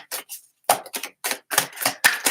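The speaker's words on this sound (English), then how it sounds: "what I'm doing is I'm shuffling till 1 card falls out." Tarot cards are shuffled by hand in a series of quick, crisp riffling bursts, about ten short papery flurries in uneven rhythm, close up and alone.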